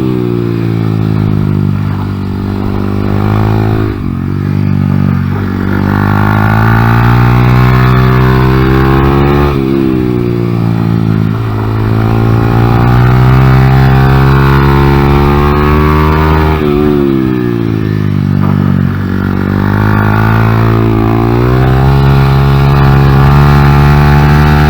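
A Honda Grom motorcycle with an upgraded Factory Pro shift pawl and spring, ridden on a kart track. The engine is loud and close throughout, revving up and dropping repeatedly as the rider shifts and eases off the throttle through turns.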